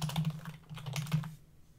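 A short burst of fast keystrokes on a computer keyboard as code is typed, close and crisp, trailing off into quiet near the end.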